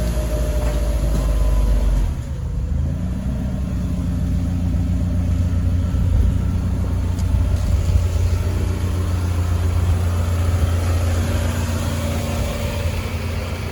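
Lowered Toyota Camry on BC Racing coilovers driving out, a steady mid-pitched engine hum with a deep rumble at the start, running continuously and fairly close with no talking.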